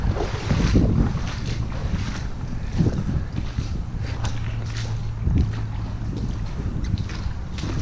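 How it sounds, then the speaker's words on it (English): Cold wind at a city creek in near-freezing weather, about 32 degrees, buffets the microphone as a steady, rough rush with heavier gusts near the start and middle, and no one speaks. "I think it's about 32 right now, but the wind is blowing."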